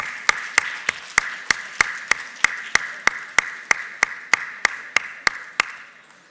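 Sharp, evenly spaced claps ring out at a steady rhythm, about three per second, at an International Women's Day ceremony at IIT Kharagpur, then stop abruptly near the end.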